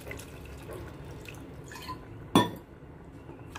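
Water splashes briefly into a pot of whole moong lentils cooking on the stove, one short wet burst against a quiet kitchen background.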